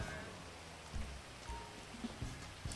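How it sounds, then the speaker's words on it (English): Rain falls steadily in a video game, a soft continuous patter with a few faint thuds underneath, quiet and with no talking. "Of course it starts raining."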